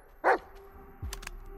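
In the Blair Witch video game, a dog gives a single sharp bark, then a low whimpering growl and a couple of faint clicks follow against a quiet, hushed background.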